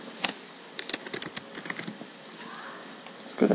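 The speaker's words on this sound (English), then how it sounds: "So I'll just type in Matt" Typing on a computer keyboard while entering a name into a spreadsheet filter, a quick burst of sharp, close key clicks at an irregular pace, with a soft thump near the end.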